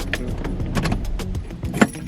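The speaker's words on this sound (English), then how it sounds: "gonna turn my car off so you can hear me better." A parked car outside a gym is switched off while keys jangle in the ignition, a close, brief rustle of metallic clinks with a short sharp click near the end, no voices.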